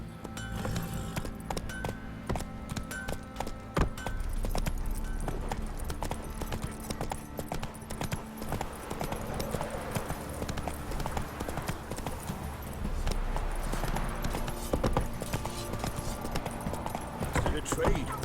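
Horse hooves trot steadily in The Witcher 3, a continuous clip-clop rhythm running throughout over game ambience, with a rider's voice heard over it.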